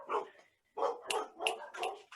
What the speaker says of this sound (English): Oh, sorry, those are my dogs.